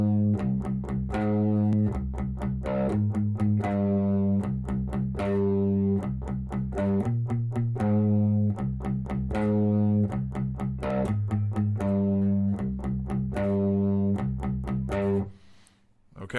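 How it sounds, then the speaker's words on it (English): A heavily distorted electric guitar plays the main riff of a song, a chugging riff with repeated palm-muted low notes and sustained chords, loud and steady throughout. "that really just carries into the continued main riff as the distortion kicks in"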